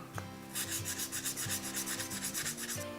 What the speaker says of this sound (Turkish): Şimdi aşırı ince 2000 numara zımparayla düzgün bir yüzey oluşturmaya çalışacağım.